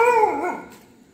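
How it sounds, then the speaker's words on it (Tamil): A dog inside a house lets out a single loud, drawn-out howling bark with a whimpering, falling pitch that fades over about a second, close and alone. "ஒரு வீட்டில் நாய் குறைக்கும் பாருங்க"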